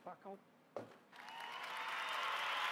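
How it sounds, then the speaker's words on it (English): After brief speech, applause swells in and builds into a steady, broad wash of clapping that continues to the end, moderately loud. "there's some applause for you"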